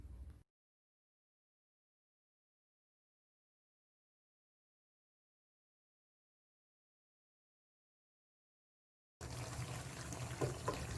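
Water pours into a pan of chicken with potatoes, carrots and peas: a short splash at the start, a long silence, then about two seconds of close, steady pouring and bubbling.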